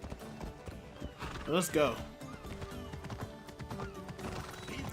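A horse in the Assassin's Creed Odyssey video game neighs loudly with a rising whinny while rhythmic clip-clop hoofbeats gallop underneath, with someone speaking briefly over the game sounds.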